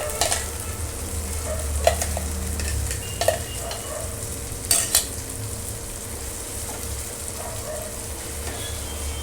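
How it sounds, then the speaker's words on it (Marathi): Masala with Kashmiri chilli stirring and sizzling in hot oil, a constant frying hiss with scattered scrapes and clinks of the spoon against the pan. "आता हा मसाला तेलात छान परतून घ्यायचा."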